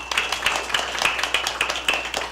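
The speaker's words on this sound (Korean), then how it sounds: "박수 한번 보내드리죠." An audience at a college presidents' summit claps after a speech. The claps are distinct and fairly rhythmic, close and moderately loud, with a faint steady tone running underneath.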